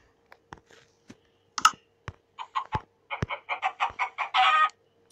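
Chickens in the Minecraft video game give a run of short, close clucks, a few sparse ones and then a quickening series, with clicking sounds mixed in and no talk.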